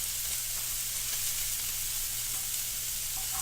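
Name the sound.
steak sizzling in a pan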